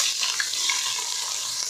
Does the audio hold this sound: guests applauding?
no